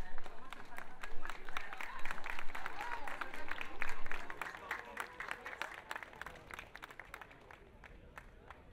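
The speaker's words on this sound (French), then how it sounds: "Les quelques applaudissements qui viennent de sortir reconnaissent tout le bienfait d'avoir une chorale." Scattered applause fills a chapel after a choir song at an Assumption celebration, a moderate crowd clapping steadily and fading toward the end, with murmuring voices underneath.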